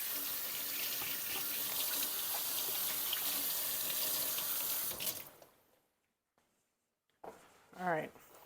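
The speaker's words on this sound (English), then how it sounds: "I'm going to rinse my finger real quick." A kitchen tap runs in a steady stream while a finger is rinsed under it, then the water cuts off and there is near silence. A voice speaks briefly at the end.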